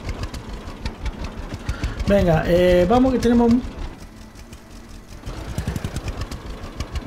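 A tractor engine in the farming game Farmer's Dynasty struggles to start, chugging in a rapid mechanical rhythm while someone speaks over the middle of it.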